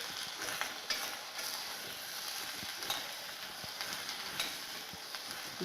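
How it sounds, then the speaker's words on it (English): Food shallow frying in a small sufuria gives a steady, fairly quiet sizzle, with faint scraping stirs and light clinks scattered throughout and no talk. "You shallow fry them."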